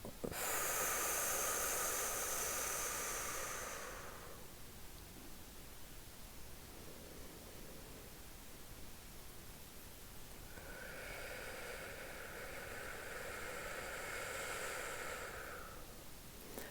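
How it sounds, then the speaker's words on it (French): Slow paced breathing exercise with a long, audible airy breath, a pause of quieter room noise, then another long breath through the mouth, close and soft with no talking. "je te propose d'inspirer sur 4 temps, c'est-à-dire 4 secondes, de prendre 2 secondes de rétention et d'expirer par la bouche sur 6 secondes"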